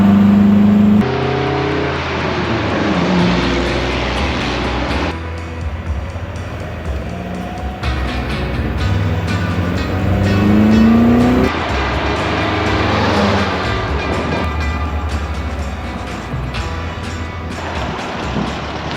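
A 1962 Triumph TR4 with its top down revs and shifts through gears at speed, rising and falling pitch as it accelerates and slows, loud and continuous throughout.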